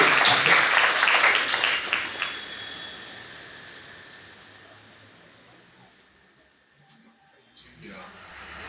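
Audience round of applause at an inspiration event in Karnataka honoring two guests: loud clapping at the start that gradually fades away over several seconds, leaving quiet room tone and a faint stir near the end.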